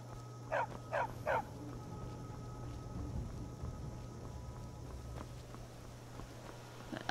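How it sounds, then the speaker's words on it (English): A dog companion in the video game Skyrim gives three quick barks early on, fairly prominent over a low ambient hum, followed by quiet game ambience with faint footsteps. "Even Xena barked."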